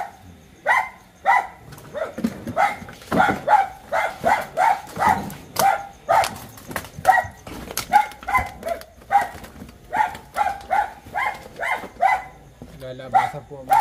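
Dogs bark repeatedly in a rural backyard area, sharp yaps and barks coming in a steady rapid series over the whole stretch, fairly close, with people talking underneath.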